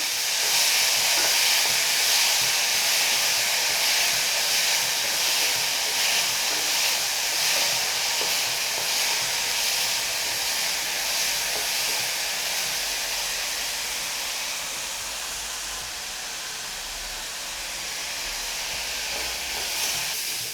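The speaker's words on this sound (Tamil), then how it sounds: "வெங்காயம் நல்லா வதங்கணும், அப்போ தான் நல்லாயிருக்கும்." Onions sauté in a pan for a rava masala dosa filling, producing a steady, close, hissing sizzle that carries on evenly for about twenty seconds with no voices.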